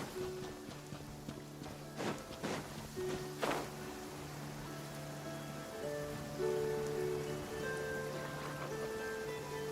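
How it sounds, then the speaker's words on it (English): Rain falls in the video game Genshin Impact, a soft steady patter under gentle tonal game music, with a few louder splashes or footsteps early on and no speech. "It always rains when I go on an adventure."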